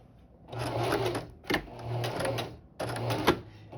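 A sewing machine stitches through multiple layers of fabric at a stitch length of 4 in three close bursts of steady whirring, separated by brief pauses and a sharp clack.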